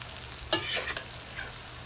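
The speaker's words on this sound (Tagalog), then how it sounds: "maglalagay tayo ng kaunting toyo, pampakulay lang din po muna. Yan po, halu-haluin lang natin" Pancit bihon ingredients stir-fried with a splash of soy sauce: a sharp burst of sizzle followed by a few scraping stirs in the pan, then a quieter hiss, close and without speech.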